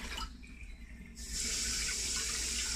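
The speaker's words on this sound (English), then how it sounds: "So I'm just putting some cold water in here." Cold tap water runs into a pot of potatoes in a kitchen, a soft trickle that swells into a strong, steady hissing rush as the flow opens up, heard close with no talking.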